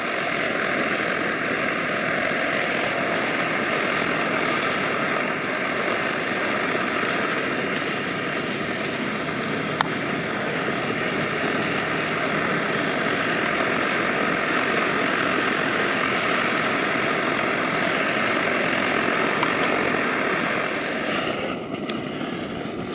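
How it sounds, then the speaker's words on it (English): Strong wind blowing outdoors over a small camping stove during a rainy outdoor cook, a loud, steady broadband roar buffeting the microphone without pause, no voices. "The wind is picking up pretty good, and it's making it a little difficult for my little stove here."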